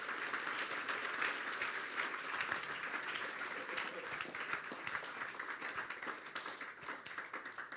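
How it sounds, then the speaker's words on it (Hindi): Steady applause from a church congregation, many hands clapping together continuously at a moderate distance during a sermon. "तालियां बजा दें यीशु के लिए।"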